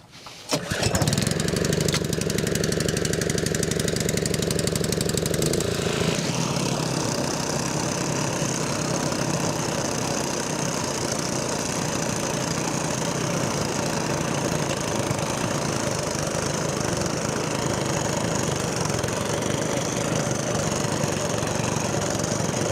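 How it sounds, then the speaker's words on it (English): Small gasoline engine of a bed edger machine pull-started and revving up, then running steadily and loudly close by for the rest of the time, with a constant buzzing drone and no talk. "We'll try to crank it up on the first pull."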